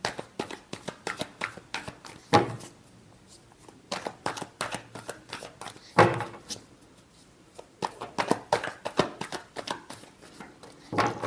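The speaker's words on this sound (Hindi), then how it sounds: "Last shuffle." Tarot cards shuffled by hand in repeated bursts of quick riffling flutters, separated by sharp slaps as the deck is squared, close and fairly quiet with no talk.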